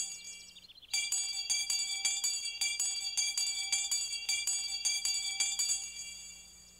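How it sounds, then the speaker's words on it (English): A small bell jingles rapidly and continuously for several seconds, bright and close, with a rhythmic tinkling pulse, then fades out. "Here's the school bell. Ring it and see who comes to school."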